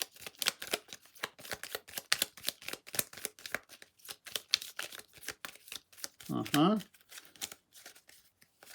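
Cards being handled and drawn from a deck for a solo game of Descent 2nd Edition, a dense run of quick, close papery clicks and flicks, with a brief vocal sound near the end.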